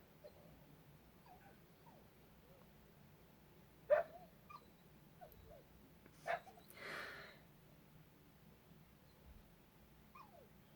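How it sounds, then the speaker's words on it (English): A puppy whimpers faintly in the distance, a few scattered high whines and yips over a quiet background hum. "there's a puppy outside"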